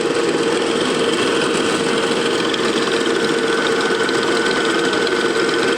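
A steady, loud tractor engine drone runs throughout with a constant knocking rhythm and mechanical vibration, close by, as the tractor drives a borewell through its PTO.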